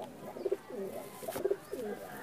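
Soft, low pigeon coos repeat in a rhythmic pattern, several calls close by over a quiet background.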